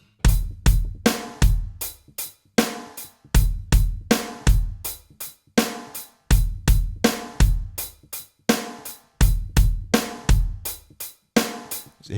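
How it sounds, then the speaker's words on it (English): Drum kit groove at grade 1/2 level, a bass drum variation with two kicks at the start, a snare on beat 2 and a kick on the and of 2 under steady hi-hats, repeating cleanly and loudly for about twelve seconds. "We've then got a snare on 2, as ever on this page, this video, and then a kick on the and of beat 2"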